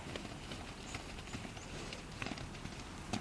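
A horse's hooves stepping on the ground during groundwork with lateral movements, a steady close clip-clop rhythm over a noisy outdoor background.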